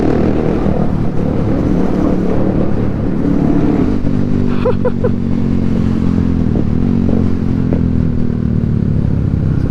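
Honda CBR motorcycle engine running at night, a loud steady drone with a deep dense exhaust note that rises and shifts pitch as it revs, heard close without talk.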